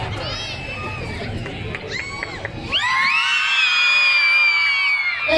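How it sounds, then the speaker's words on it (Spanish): An outdoor crowd at a Clown Day show in Pánuco, Veracruz gives a shout on cue, starting as scattered shrieks and whoops and swelling into a loud sustained cheer with high children's screams. "Eso es un gritito."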